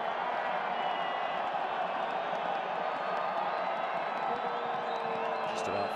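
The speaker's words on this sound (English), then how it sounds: "the crowd is on their feet here in Albuquerque" Large stadium crowd at a New Mexico United versus Fresno FC soccer match in Albuquerque, New Mexico, roaring and cheering steadily in a dense, continuous wash of voices and whoops late in stoppage time.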